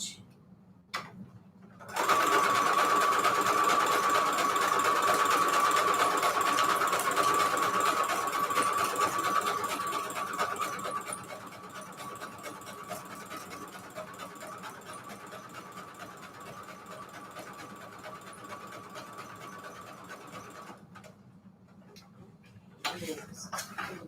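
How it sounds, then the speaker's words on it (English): A sewing machine zigzag stitching envelope pages for a junk journal runs steadily and loudly for about twenty seconds with a fast mechanical whir and tick. It slows and quietens partway through, then stops, with a few handling clicks at each end. "Okay, so zigzag stitch here first."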